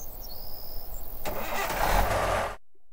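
A car engine in Thief Simulator cranks and then catches, a low turning churn that swells into a roar before cutting off abruptly.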